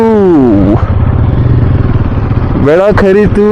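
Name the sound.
motorcycle engine at start of long ride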